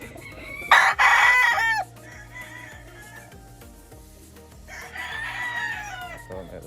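A gold sweater gamefowl rooster, bred from a gold hen and a sweater cock, crows loudly twice at a game farm, a long strained call near the start and a second later on, with faint farmyard sounds between.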